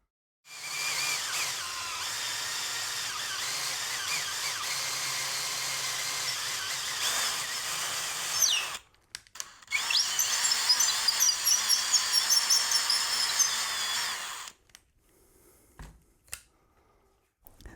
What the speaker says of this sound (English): come in with my drill bit as low as I can